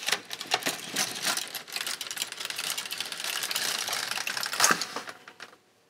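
An LK150 knitting machine carriage sweeps across one row of plain stockinette in a rapid, continuous mechanical clatter that lasts about five seconds, then stops abruptly and goes quiet.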